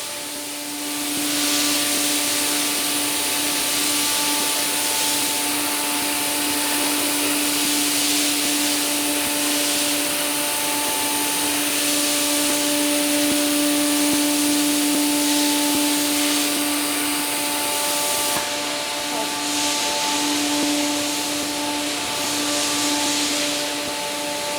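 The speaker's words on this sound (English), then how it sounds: "The machine will go to measure T1." A nesting CNC machine runs in auto mode while it measures its first tool. It gives a loud, steady mechanical hum and hiss with constant tonal whines throughout, and the tone changes slightly near the end.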